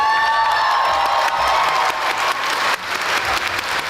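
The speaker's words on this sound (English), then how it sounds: "let's give it another round of applause for Husky." An audience at the Final Fantasy XIV Fan Festival 2023 in London claps loudly and steadily throughout, a dense wash of applause with faint cheering mixed in.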